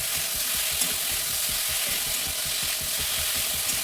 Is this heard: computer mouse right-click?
no